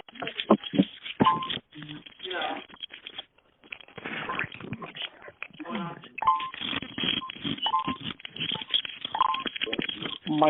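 Telephone keypad tones sound as brief beeps over a phone line on a board-meeting call while someone mutes the phone, scattered among people talking.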